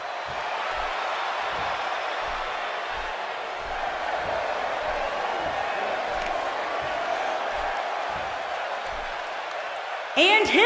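An arena crowd awaiting a triple threat wrestling match roars continuously, a dense, loud wall of cheering that never lets up, with voices talking over it and a sharp burst of noise right at the end.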